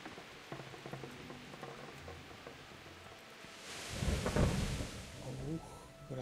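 Thunder rumbles and rain pours in a medieval role-playing video game, a stormy outdoor scene building from quieter ambience into a loud, low roll with steady rain hiss; a voice speaks briefly over it.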